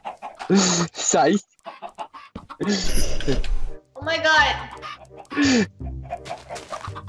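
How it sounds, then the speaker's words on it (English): Chickens cluck and squawk in bursts inside a multiplayer video game server, mixed with excited talk and game effects. "You're killing so many chickens."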